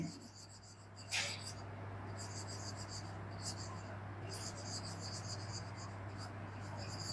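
A pen or chalk scratches out a topic heading in short bursts of strokes, close and quiet over a steady electrical hum.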